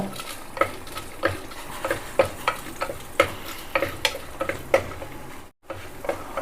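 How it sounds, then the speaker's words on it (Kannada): Three byadagi chillies fry in hot oil, a soft continuous sizzle punctuated by regular clinks of a spoon stirring the pan, close and without talk. "ಇವಾಗ ಇಲ್ಲಿ ಮೆಣಸನ್ನು ಫ್ರೈ ಮಾಡ್ಕೊಳ್ಬೇಕು"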